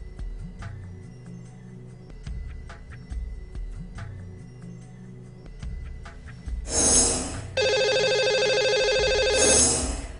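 A telephone rings in two long electronic bursts after a quieter stretch, placing a call to a caller on a Hindi television show; no one talks during the ringing.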